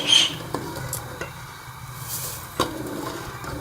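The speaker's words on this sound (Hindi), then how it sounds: "टमाटो केचप जो है पक रहा है" Tomato ketchup with sugar simmering in a pan, stirred in a few soft scraping passes with a light sizzle and a sharp clink of utensil on metal.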